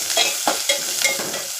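Small onions sizzle in a hot pan for a fenugreek rasam, with a spatula stirring and scraping in a few quick strokes over a steady frying hiss, close up, with no voices.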